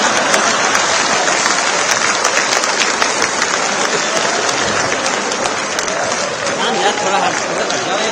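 Loud audience applause at a stage comedy show by comedian Surendra Sharma: a large crowd claps densely and steadily at close range, with murmuring voices blended into the clapping.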